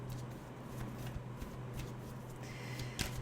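Tarot cards being shuffled and drawn, a close, soft continuous riffle of card stock with light flicks and taps, under a low steady hum.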